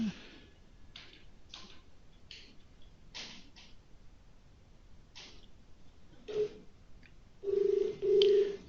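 Scattered soft clicks and taps, then two electronic telephone rings sound near the end, clear and tonal.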